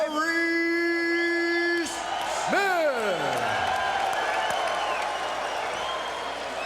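Arena crowd at a 2000 UFC event cheers, whoops and applauds loudly for fighter Maurice Smith after an announcer's voice, the roar swelling and holding steady throughout.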